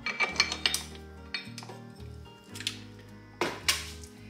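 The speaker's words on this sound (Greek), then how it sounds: "Βάζω λοιπόν το κάδο στο μίξερ, βάζω το γάντζο" A stand mixer's metal bowl and dough hook are fitted in a kitchen, giving several close sharp metallic clanks and clicks spaced irregularly, with brief scraping between them.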